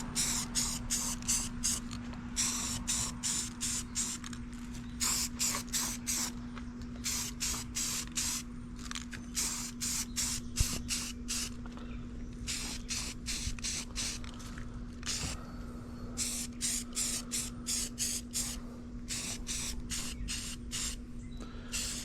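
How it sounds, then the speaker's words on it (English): Short, repeated hissing bursts from a spray can laying satin paint onto headlight parts from a 1987 El Camino, close and fairly loud, with a steady low hum running underneath throughout. "Now I'm gonna try to get this satin paint on it."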